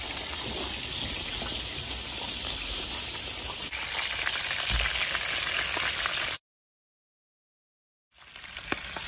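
Egg and sliced frozen hotdog frying in a pan at a Banff campground, a dense, steady close sizzle that runs several seconds, cuts to silence, then resumes briefly, with no talking.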